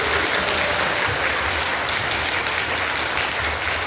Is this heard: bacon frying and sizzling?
no